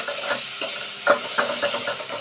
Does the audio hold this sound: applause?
no